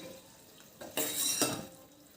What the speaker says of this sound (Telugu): కాసేపటికి నూనె ఇలా మరుగుతుందండి.